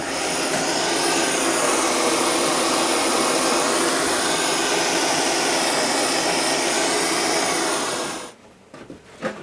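A torch heats the seam of a Jacobsen gas tank for soldering, roaring with a loud, steady, close hiss for about eight seconds before cutting off abruptly, leaving a few faint clatters and no talk.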